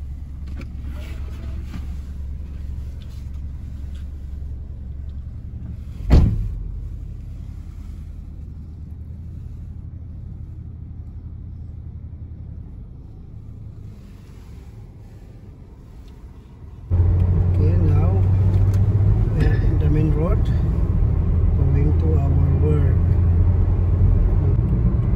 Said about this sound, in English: Heavy traffic today.